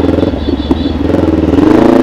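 A radiator-less, air-cooled motorcycle engine climbs uphill with a loud, close, steady pulsing throb and some mechanical clatter, and no talking.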